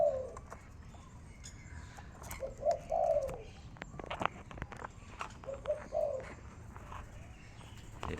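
A decoy bird calls in two short bursts of cooing phrases, clear and fairly close, against quiet outdoor background noise.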